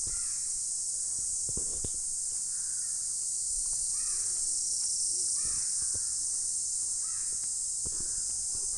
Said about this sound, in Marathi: किती पाखरांचा किती आवाज येतो या जंगलात ना बघा.